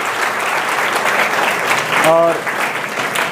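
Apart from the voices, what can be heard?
audience applause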